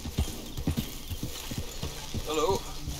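Horse hooves clip-clop in a steady rhythmic walk in Red Dead Redemption 2, close and clear, followed by a short whinny near the end, with a voice talking over the game sound.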